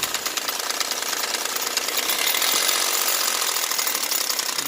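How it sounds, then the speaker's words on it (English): Honda J-series V6 engine running with a rattle from a loose hydraulic timing belt tensioner pulley, a continuous, dense metallic clatter heard close up and steady throughout. "it loosens up the pulley. And once it loosens that up, it makes the rattling noise"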